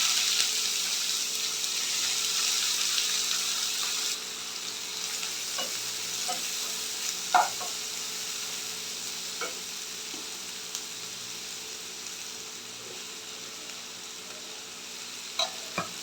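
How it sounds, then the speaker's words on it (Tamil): Onion sizzling in hot oil with popped mustard seeds, a cinnamon stick and cloves, a steady close hiss that softens partway through, with a few faint clinks of a spoon. "அடுத்தது வெங்காயம் சேர்த்துக்கலாம்"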